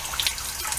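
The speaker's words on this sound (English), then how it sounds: "You fill it with water and there's almost nothing coming through it" Water pours into a SunSun under-tank aquarium filter being cleaned beside a tilapia tank, a close, steady splashing flow with faint trickles and drips, no voices.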